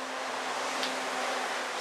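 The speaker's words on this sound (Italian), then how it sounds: "Sentite i camion che passano, lasciano questa scia abbastanza rumorosa" Broad, steady roar of trucks rushing past, a heavy vehicle's wash going by, with a low hum underneath and no voices.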